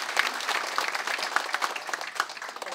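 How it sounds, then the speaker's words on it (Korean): Steady applause from an audience at an academic seminar, a dense run of many hands clapping at moderate volume throughout, with no voices standing out. "김중태 교수님 오셨는데, 예, 박수."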